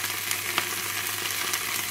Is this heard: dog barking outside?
no